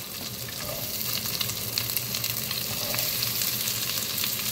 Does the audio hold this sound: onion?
yes